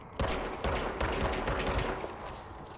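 A player's gun fires in the game Control, a loud close rapid string of shots with a few sharper bursts about every half second, continuous throughout.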